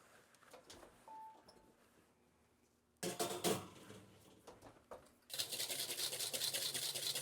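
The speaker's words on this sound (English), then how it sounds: "I've already started whipping the egg whites." Egg whites being whipped for a meringue topping on a vintage 1943 caramel square, a steady buzzing mechanical whir that kicks in loudly after a quiet stretch of kitchen clatter and grows more intense toward the end.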